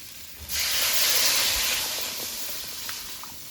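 Water poured into a hot pan of fried potatoes for a rohu fish curry sets off a sudden loud hiss and sizzle of steam that swells, then slowly eases while staying steady to the end.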